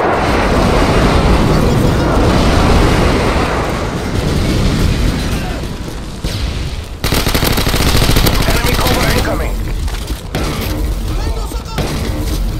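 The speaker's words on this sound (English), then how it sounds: "Friendly airstrike inbound." Call of Duty: Modern Warfare 2 team deathmatch, with an airstrike landing amid constant gunfire: loud, dense rumbling blasts and rapid automatic shots filling the whole stretch, briefly dipping before another heavy wave.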